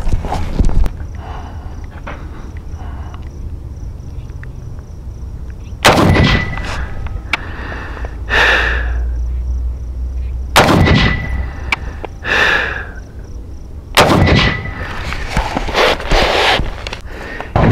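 KelTec SU16c rifle fired outdoors, three sharp, loud gunshots spaced several seconds apart with ringing tails, and quiet shuffling and handling noise between them.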